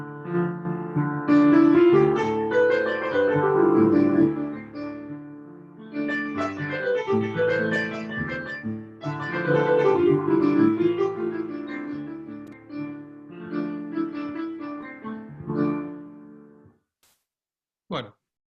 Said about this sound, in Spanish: El ejemplo suena algo así, el frigio.